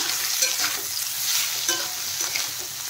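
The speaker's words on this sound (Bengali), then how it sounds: "নেড়ে চেড়ে ভেজে নেব সয়াবিন।" Boiled soybeans frying in hot oil in a pan while being stirred, a continuous close sizzle with scraping stirring strokes throughout.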